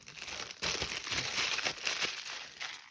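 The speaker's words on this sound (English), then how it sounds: "Now I've already put my white into the piping bag, so I'm just going to cut the tip off." A plastic piping bag filled with white icing is handled close up, giving continuous crinkling and rustling with a sharper burst of crackle partway through.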